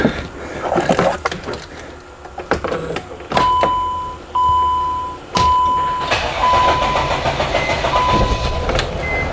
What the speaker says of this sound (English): So now we're gonna start the engine.